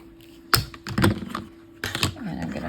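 Rotary or scissor cutting through a stack of fabric pieces for quilt blocks, heard as a few sharp, close crunching strokes with quiet gaps between them, no talking.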